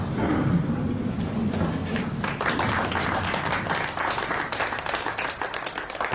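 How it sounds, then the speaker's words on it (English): Applause from a gathering of lords and gentlemen greeting Prince William of Orange in a chamber of Parliament, a dense crowd clapping steadily at moderate loudness across the whole stretch, with no voices over it. "They clapped, but not for long."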